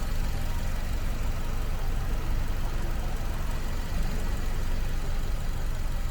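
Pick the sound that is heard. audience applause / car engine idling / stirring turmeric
car engine idling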